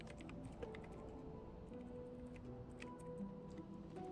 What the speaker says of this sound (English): You're hearing a clickety-clack, me changing the stream titles.